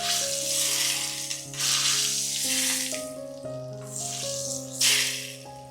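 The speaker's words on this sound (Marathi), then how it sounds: "लोणच्यामध्ये फोडणी घालूया." Hot tempering with asafoetida and turmeric is poured into pickle, letting out short hissing sizzles in a few bursts over steady background music.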